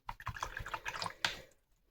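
A watercolor paintbrush rinsed in a water jar, giving a quick run of small close splashes, taps and drips, then a final clink before fading to quiet.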